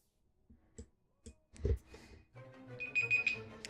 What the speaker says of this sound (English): There's my timer going off